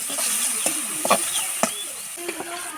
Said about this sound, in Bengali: ধনে গুঁড়ো দিয়ে দিলাম পরিমাণ মতো নুন মশলাটা ভালো করে কষিয়ে নিচ্ছে